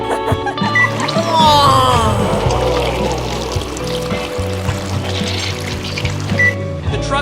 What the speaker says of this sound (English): I'll pour the first batch now.